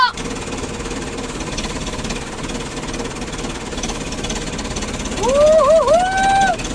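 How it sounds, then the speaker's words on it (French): Steady mechanical engine rumble with a knocking, vibrating texture, like a tractor running nearby; a brief high whine rises near the end. "Ça se lève le tracteur."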